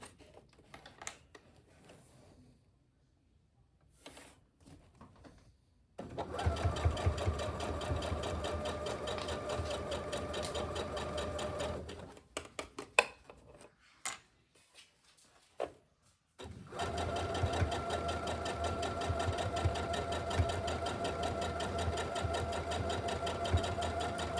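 A sewing machine stitches fabric for a bellydance sword cover in two long, steady runs of rapid mechanical chatter, separated by quiet pauses and scattered handling clicks.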